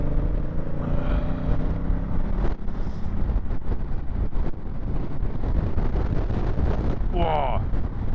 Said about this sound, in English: that wind is intense. It's just like a barrage of 80-mile-an-hour wind